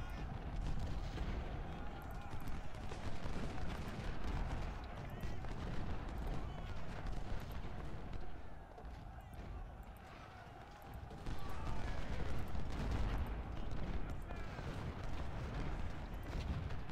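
Battlefield din in Ultimate General Civil War with rumbling cannon fire and gunfire blending into a dense, continuous roar of distant booms and crackles, swelling louder toward the end.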